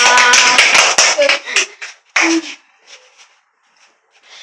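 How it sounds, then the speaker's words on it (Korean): Children clap briefly after a group game activity, with a dense burst of claps fading into a few scattered, separate claps, and a voice heard in between. "박수"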